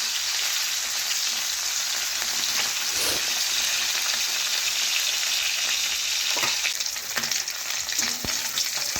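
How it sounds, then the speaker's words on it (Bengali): Koi fish, already turned once, fry in hot oil with a dense, continuous close crackle and sizzle and a few faint clicks near the end. "এখন আর এক পাশ আমি ভালোভাবে ভেজে নিচ্ছি।"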